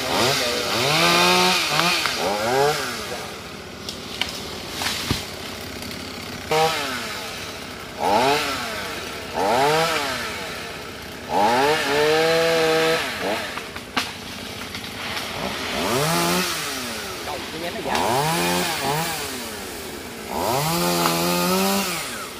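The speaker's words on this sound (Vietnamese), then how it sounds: "Chú Dũng đang cưa phần đọt." A chainsaw cuts through the top of a tree outdoors, its engine whining up and down in repeated surges as it bites into the wood, loud and close throughout.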